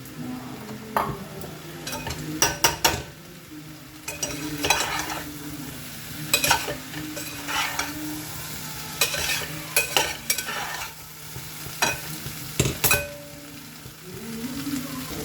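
A spice mixture stir-fried in a pan, with repeated brisk spatula scrapes and clinks in uneven bursts over a low, steady sizzle, heard close up without any speech.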